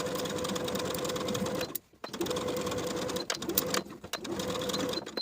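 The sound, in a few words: sewing machine sewing dress facing to armhole edges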